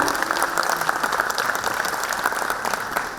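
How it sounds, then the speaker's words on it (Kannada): Audience applause at the Karnataka Bhushana 2025 award ceremony in an auditorium, a dense, sustained clapping of a large crowd that stays loud and even throughout. "ದಯವಿಟ್ಟು ಇವರಿಗೂ ಕೂಡ ಚಪ್ಪಾಳೆಯ ಮೂಲಕ ಸ್ವಾಗತ ಮಾಡಿಕೊಳ್ಳೋಣ"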